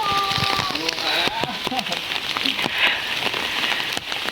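Steady rain patters in a rural Indonesian village, with a continuous wash of drops throughout and scattered crackling, while a voice speaks over it early on.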